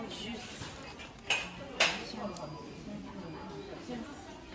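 Black plates and bowls clink and knock together as they are handled, a few sharp ceramic clatters amid quieter rattling, close by, with a voice talking over them.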